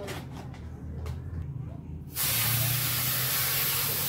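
Snow spray can blasting into a glass as it is filled: after about two seconds of quiet room noise, a loud, steady broadband hiss starts abruptly and holds to the end, close and alone.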